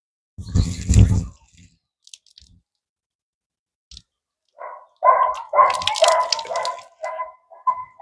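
Indian borage leaves washed by hand in a vessel of clean water: a short splashy burst, a few faint drips in a quiet gap, then a longer run of sloshing and dripping close by.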